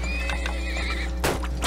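A horse in the video game Turmoil lets out a close, loud neigh over a steady background hum of game music, preceded by soft clip-clop hoofbeats.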